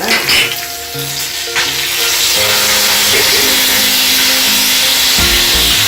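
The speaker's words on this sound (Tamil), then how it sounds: "கடுகு நல்லா வச்சிச்சுங்க, அதனால கருவேப்பிலை போடுங்க" Mustard seeds and curry leaves hit hot oil while tempering for a vegetable kurma, giving a loud, steady crackling sizzle that swells after a moment and continues close up, with faint clinks of a utensil.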